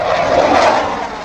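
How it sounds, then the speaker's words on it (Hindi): Fighter jets landing on the Ganga Expressway in Shahjahanpur during an Air Force emergency airstrip drill, heard as a loud, steady broadband engine roar held close throughout. "आज हमारे फाइटर जेट्स एक्सप्रेस वे पर उतरे।"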